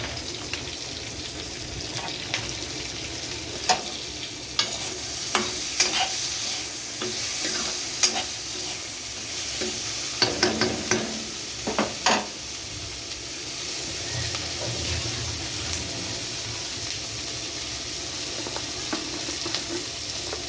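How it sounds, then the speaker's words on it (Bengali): Chopped onions frying in hot oil for a Bengali fish-head and rice dish: a steady, bright sizzle with intermittent clicks and scrapes of stirring, continuous and close. "দুটো পেঁয়াজের কুচি তেলে দিয়ে দিলাম।"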